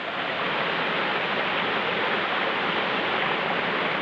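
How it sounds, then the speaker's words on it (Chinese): A waterfall gives off a steady, dense roar of rushing water with no break or change, heard close by and alone. "很大的瀑布声了。"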